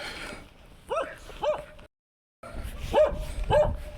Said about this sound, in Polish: No i co ty tak szczekasz?